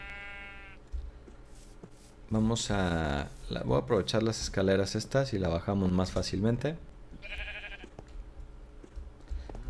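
Two bleats from a Minecraft sheep, one at the start and one near the end, with someone speaking Spanish loudly between them.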